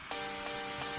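An EDM drop piano patch from Nexus strikes bright, compressed chords three times in about a second, each hit sharp and evenly spaced, played alone at a moderate level.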